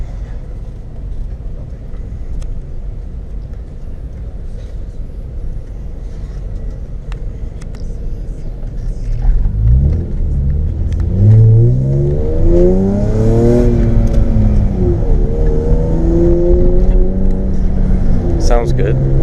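A BMW E36 with a swapped-in 2.8 M52 straight-six and straight-pipe exhaust idles with a steady low rumble, then revs hard and climbs in loud, raspy sweeps through the second half as voices speak over it.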